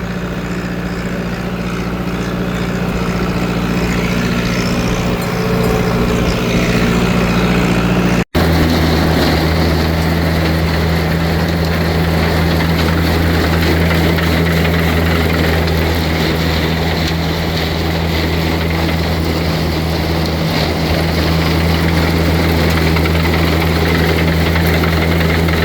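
A forage chopper engine runs steadily while chopping hay rows too wide for the chopper head, a loud continuous drone and rumble for the whole stretch with a brief break partway through.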